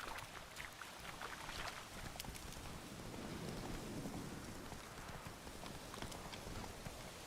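Roach the horse gallops in The Witcher: Wild Hunt, a rapid clip-clop of hooves over a dense backdrop of rain-like ambient noise, steady and continuous for several seconds without talking.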